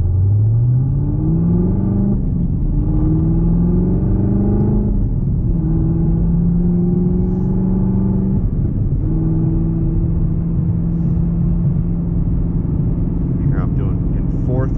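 A Chevrolet Camaro ZL1's engine hums loudly while driving, its pitch climbing steadily through the revs, dropping at gear changes and then settling into a constant drone, with talk over it.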